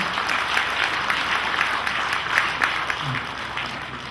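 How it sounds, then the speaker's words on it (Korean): Audience clapping at a book launch talk concert, a steady continuous round of applause filling the room throughout, with faint speech-like murmur beneath. "우리 꺼벙이 권오을님을 위해서 박수 한번 더 주십시오"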